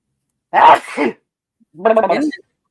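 Two short, loud sneezes, separated by about a second of quiet, close up.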